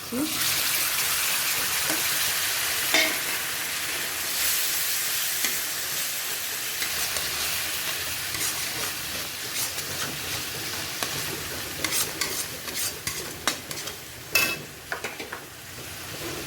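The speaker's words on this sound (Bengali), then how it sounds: "বেশ লাল হয়ে গেছে, টমেটো দিয়ে দিচ্ছি" Chopped tomatoes fry and get stirred in a pan with chilli and salt. A broad sizzling hiss is loudest at first and then fades, broken near the end by sharp scraping and clattering strokes.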